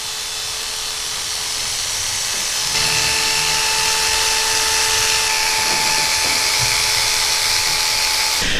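Electric hair clippers buzz steadily and loudly at close range while cutting a mid skin fade, a continuous high motor whine that grows a little stronger partway through, with no one speaking.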